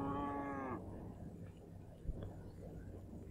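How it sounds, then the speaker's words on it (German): A single drawn-out cow moo from the farm district in Cities: Skylines, close and clear for under a second, then fading into a soft ambient game background. "Hier sind die Kühe am Mölken, ne?"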